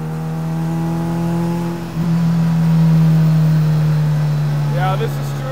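A custom mid-engine Mini's engine, tuned lean at about 12 to 13:1 air-fuel, runs close by with a steady low drone that dips briefly, then rises and holds at a higher pitch, like a revving idle.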